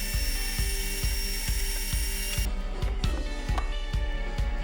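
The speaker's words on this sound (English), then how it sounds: "I then took them over to the planer to bring them down to their final thickness." A thickness planer feeds wooden boards for desk legs. The cutterhead gives a loud, continuous whine with a regular thumping pulse about every quarter second, which changes character partway through as the board passes.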